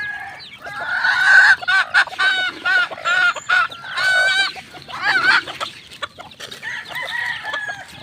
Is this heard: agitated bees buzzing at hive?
no